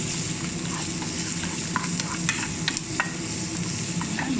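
Chicken hearts sizzle steadily in a hot pan while a spoon stirs them, giving scattered scraping clicks over a constant close frying hiss.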